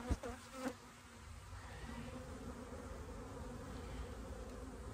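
A honeybee colony buzzes in an opened hive, a dense, continuous drone heard close by and fairly quiet, with a couple of small knocks at the start.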